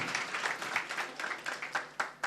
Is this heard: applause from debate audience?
yes